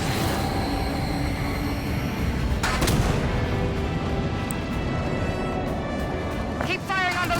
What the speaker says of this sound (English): Keep firing on those coolant pipes